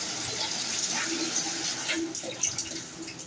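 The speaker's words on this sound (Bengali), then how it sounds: "সবজি ধুয়ে নিলাম" Running tap water pours over vegetables being rinsed in a home kitchen, a steady close gush with a few brief splashes and clinks along the way.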